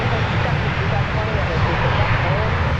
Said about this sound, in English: It's a jaunty little private jet there.